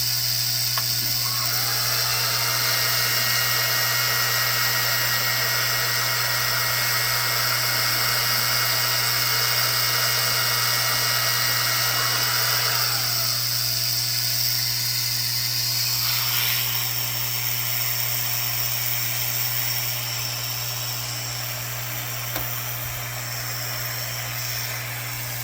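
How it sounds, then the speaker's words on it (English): An XTool D1 Pro 20W laser cutter works through 9oz vegtan leather, giving a steady mechanical whir and buzz with a constant low hum beneath it. The sound shifts in tone partway through and carries on without pause. "We're going to cut a 1-inch circle out of 9-ounce vegtan leather, and let's give this a start."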